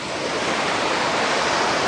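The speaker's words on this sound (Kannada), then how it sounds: "ಓಹೋ ನೋಡಿ, ಅಲೆಗಳು ಯಾವ ರೀತಿ ರಭಸವಾಗಿ ಬರ್ತಾಯಿದೆ." Strong sea waves crash and surge on Karwar beach at sunset in the rain, a loud, continuous roar of surf filling the whole stretch close by, with no voices.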